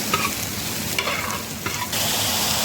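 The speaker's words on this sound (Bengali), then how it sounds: "কিছুক্ষণ পর পরে একটু নাড়িয়ে নিতে হবে, এখানে পেঁয়াজ পুড়ে না যায়।" Onions frying in a pan for tomato chutney, sizzling steadily while being stirred, with scraping strokes near one and two seconds, close and loud with no talk.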